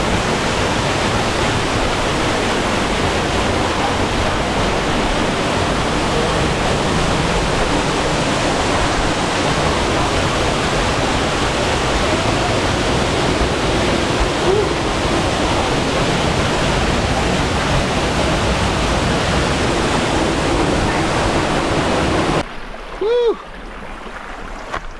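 A Hawaiian waterfall on a hiking trail roars as a steady, loud, broadband rush of falling water for most of the stretch, then cuts off abruptly near the end.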